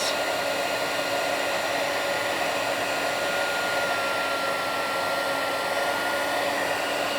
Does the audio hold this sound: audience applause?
no